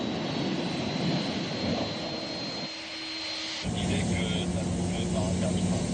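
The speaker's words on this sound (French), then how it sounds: "Les déneigeuses ont beau s'activer, les avions peinent à rejoindre la zone de décollage." Jet airplanes taxiing toward takeoff on an icy runway in winter, their engines whining and droning steadily at a moderate distance, with a tonal hum that shifts partway through.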